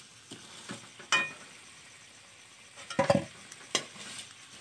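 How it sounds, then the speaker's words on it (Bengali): Bay leaf dropped into hot oil in a wok, a faint low sizzle punctuated by several sharp scraping and clinking stirs, with a cluster of louder crackles near the middle, no voices. "ফার্স্ট তেজপাতাটা দিয়ে দিলাম।"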